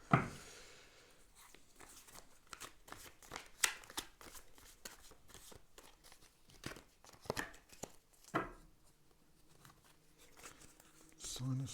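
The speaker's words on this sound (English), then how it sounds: "I have pre-shuffled these cards as well" A deck of tarot cards is shuffled repeatedly, with riffling and soft slapping bursts at close range, then quieter handling and a brief thump at the end.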